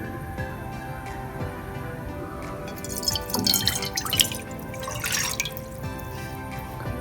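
A cup and a half of water being poured into a kadhai (wok) to start a carrot murabba syrup; a steady close trickle with dripping swells into a louder splashing burst midway, then settles back.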